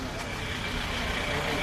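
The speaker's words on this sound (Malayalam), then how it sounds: "നമ്മുടെ ബസ് വന്നിട്ടുണ്ട്." A visitor shuttle bus pulls up at a stop, its engine idling in a low steady rumble with a faint beeping tone, while voices talk in the background.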